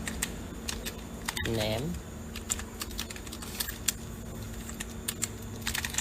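Keystrokes clatter steadily on a computer keyboard as text is typed, close and crisp, with a brief spoken word near the start.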